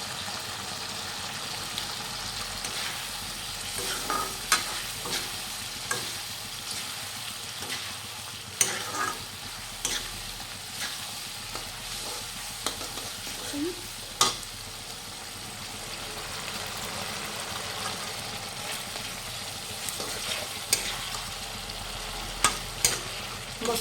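Spice masala for pork fries in a pan with a constant sizzling hiss, broken by occasional scrapes and clicks of stirring, close and steady, with no voices.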